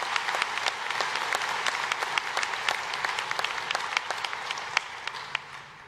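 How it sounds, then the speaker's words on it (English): Audience applause for a scholarship recipient at the 2022 West Valley College commencement: a steady run of many hands clapping at moderate volume, with crisp individual claps standing out, lasting the full stretch. "Let's give a round of applause for Curran."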